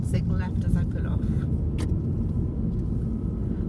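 A learner's car pulls away on a Portsmouth driving test route near Bedhampton Hill Road, its engine a steady low rumble at close range, with a voice talking over it.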